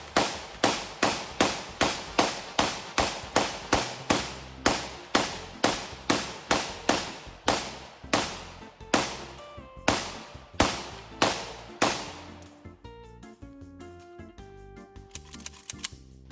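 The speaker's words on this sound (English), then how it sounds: "This thing is loud and proud, that's for damn sure when you shoot it." A Krebs Custom M23 rifle fires a rapid string of loud, sharp gunshots, more than twenty evenly spaced cracks in quick succession, then a few slower shots trailing off into ringing echo.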